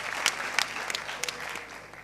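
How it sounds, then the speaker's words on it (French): Audience applause at a televised talent-contest semi-final, a steady dense patter of many hands with a few sharper claps standing out, fairly close and without talk. "je vais vous demander d'applaudir encore pour Sam Coco Flor"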